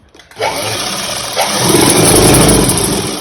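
A sewing machine stitches tucks on an umbrella-style gown. After a brief start it runs at a steady, loud motor whir that rises and holds close by, and no one speaks.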